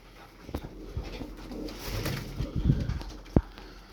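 Tumbler pigeons give soft low coos in scattered bursts, with faint shuffling and a sharp knock near the end, close by and fairly quiet.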